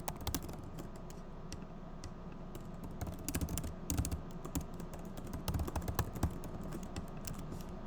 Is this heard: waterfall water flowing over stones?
no